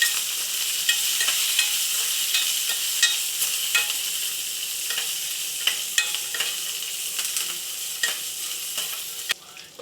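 Chopped onions and green chillies sizzle in hot oil in a pan while a spoon scrapes and knocks against the metal at intervals, close and steady with no talking.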